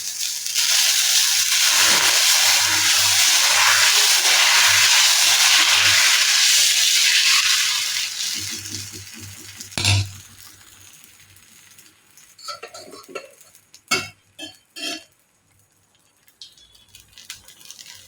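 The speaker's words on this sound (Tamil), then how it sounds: "ஊற வச்சதுலேருந்து அரைக்கிறதெல்லாம் இப்போ வந்து நான் தோசையை வந்து ஊற்றி காமிக்க போகிறேன்" Ragi dosa batter spread on a hot pan gives a loud, steady broadband sizzle for about eight seconds. It then fades, and a few sharp clinks and scrapes follow.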